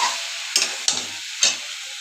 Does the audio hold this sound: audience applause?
no